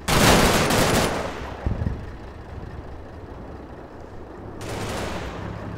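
Bursts of gunfire from Combat Mission: Battle for Normandy, loud at first, then thinning to a duller battlefield rumble before another burst of shooting picks up near the end. Dense, crackling volleys rather than single shots.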